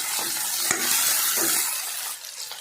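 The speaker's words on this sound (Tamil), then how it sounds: "இது போட்டு நல்லா வதக்கி விட்டுக்கலாம்" Chopped tomatoes sizzle steadily in a hot pan for egg gravy, with a few soft scrapes of a spoon stirring them through the continuous close frying hiss.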